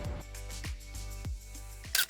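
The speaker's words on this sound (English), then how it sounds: "So I need to take a picture and send that to Marie and Martin" A camera shutter clicks a few times in quick succession while a photo is taken of a spray-paint cafe furniture project, sharp close clicks with no talking.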